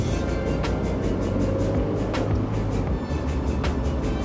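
Quiet stock exhaust of a Mazda MX-5 roadster, a low, subdued engine hum and rumble heard steadily throughout with no sharp revs, fairly soft and even in level.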